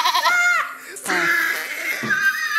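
Goat bleats repeatedly at close range in an outdoor rural setting, wavering nasal cries filling most of the moment with only brief pauses between calls.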